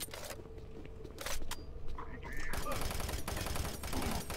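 Gunfire in the Doom 3 video game cracks out in sharp shots and rapid bursts among other game noises, with a player speaking now and then.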